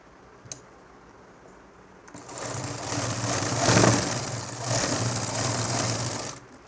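A home sewing machine stitches the side strip of a nightie in one continuous whirring run, starting after a quiet pause and holding steady, close and moderately loud.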